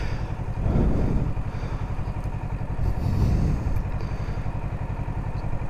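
A motorcycle rolls across a bike path, its engine chugging in a steady low throb with two heavier surges and clattering bumps, loud and close, with no voices.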